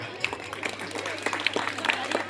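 Audience applause at a live comedy show: a dense, steady patter of many hands clapping, moderately loud and continuous throughout, with voices mixed faintly underneath.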